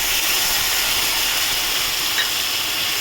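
Ground mustard paste hits hot oil over fried ginger while cooking okra in a mustard sauce, producing a steady, loud, broadband sizzling hiss that holds evenly throughout with no voices.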